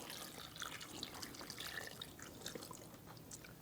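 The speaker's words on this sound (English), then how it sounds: "I'm going to add 1 cup of water to it" Water pouring from a tap or cup into vinegar in a kitchen while preparing pickled loquats, a soft continuous splashing trickle, fairly faint and steady, with no voices.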